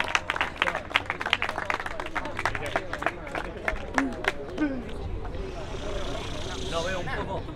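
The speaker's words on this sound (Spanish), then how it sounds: "fuerte aplauso para los tres competidores" A crowd at a rap battle competition applauds the three competitors, dense rapid clapping mixed with cheering and crowd babble, loud and sustained before thinning into general hubbub.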